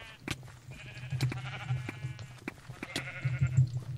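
Sheep in a Minecraft-style video game give several short bleats in quick succession, close and clear, over a faint low background hum.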